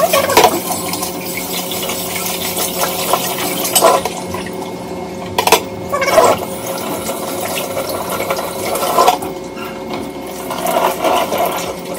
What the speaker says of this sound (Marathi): इथं शिमला मिरची आणि फरसबी धुवून घेते मी आता स्वच्छ